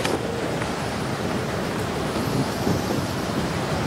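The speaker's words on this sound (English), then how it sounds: "The wind was picking up snow powder as it whipped north across the summit" Strong wind tearing across the Everest summit and whipping up snow powder, a steady, loud roar with constant buffeting on the microphone, no voices.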